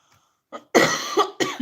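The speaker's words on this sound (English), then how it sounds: "Excuse me for coughing." A couple of short, sharp coughs close up, with a faint throat sound just before, in an otherwise quiet room.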